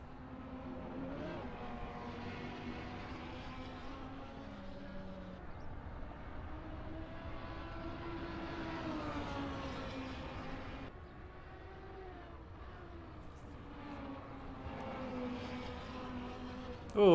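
Lamborghini Huracan engine in a sim racing game at Road America, a steady, moderately quiet drone with rising and falling harmonic tones as the car accelerates and shifts, continuous for the whole stretch with no talk.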